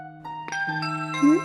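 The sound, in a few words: doorbell ringing at night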